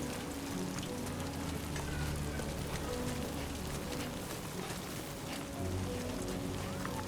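Steady, dense rain falling in a Death Stranding 2 game world, an even hiss of drops on surfaces with no pause, moderately quiet and unaccompanied by voices.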